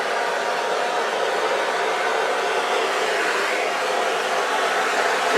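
A torch blows over a fluid acrylic paint pour, a steady, loud, unbroken hiss of rushing air lasting throughout with no voices.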